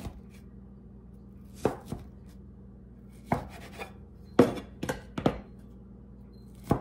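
A knife cuts apple pecan scone dough into eight wedges on a floured board, giving about six soft thunks spread unevenly, close and moderately loud over a quiet room hum, with one brief spoken word.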